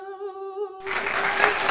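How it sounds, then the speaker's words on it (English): A round of applause for a new intro breaks out after a brief tonal jingle, the clapping rising suddenly and continuing steadily to the end. "can we please give a round of applause for the new intro?"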